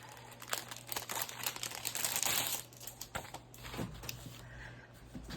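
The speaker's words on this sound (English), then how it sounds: "let me open this pack here" Pack of ephemera papers being opened by hand, a close, quiet stretch of steady crinkling and rustling plastic and paper with small crackles and snaps throughout, no talk over it.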